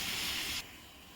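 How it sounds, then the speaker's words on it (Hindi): A pressure cooker whistle releases steam while dal cooks, a steady loud hiss that cuts off abruptly after about half a second, leaving a softer background hiss. "कुकर 1 सीटी दे दिया है"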